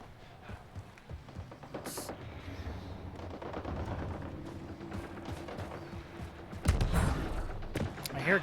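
Gunfire in the sci-fi shooter Mass Effect Andromeda: repeated shots crackle through a busy game soundscape, with a louder burst of heavy impacts near the end.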